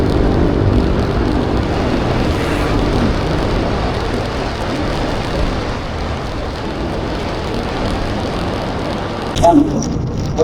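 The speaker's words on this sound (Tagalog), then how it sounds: "Umulan na naman." Steady, dense rain hisses loudly and continuously across the whole clip during a motorcycle ride in Leyte, with a brief clatter near the end.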